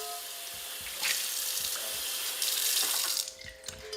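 Tap water runs steadily into a sink while a cast iron skillet is washed, surging louder in two bursts before easing off near the end, close and uninterrupted by talk.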